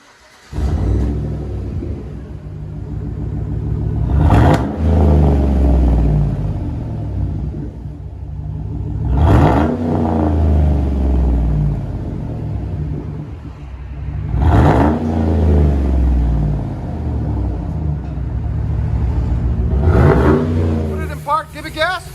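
A 2011 Chevy Tahoe with a 5.3L V8 and straight-pipe exhaust, muffler and resonator deleted, revs hard four times in a deep rumbling roar, each rev swelling and falling back to a loud, throaty idle.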